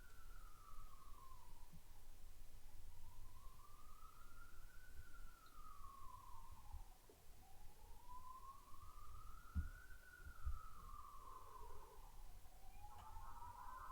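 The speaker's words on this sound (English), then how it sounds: "There's the ambulance." An ambulance siren passes outside, a wailing tone rising and falling in slow sweeps, fairly faint and distant over a low steady room hum.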